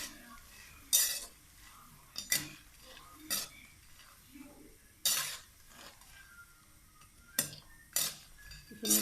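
Nimki frying in oil is stirred slowly in a pan, with about seven distinct scraping clanks of a metal spoon spaced a second or two apart over a faint, steady sizzle, no voices.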